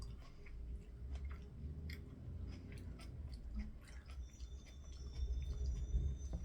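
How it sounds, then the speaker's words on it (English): Raw celery chewed close up, wet crunchy bites and squishing mastication repeating irregularly throughout with no talk. "I'm going to be chewing for the next 5 years because it's celery."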